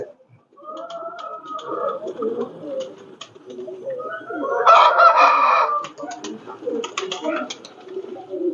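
Pigeons cooing close by in low, throaty rolling calls, several overlapping, with a louder burst of calls midway.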